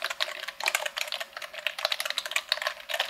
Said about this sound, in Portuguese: Por isso eu toco o teclado.